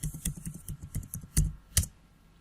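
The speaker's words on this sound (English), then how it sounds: "open command prompt and just type Java version" Quick keystrokes on a computer keyboard, typing a command into a Windows command prompt: an irregular burst of close, crisp clicks with a couple of louder key presses near the end, no voices.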